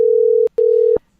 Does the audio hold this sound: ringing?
yes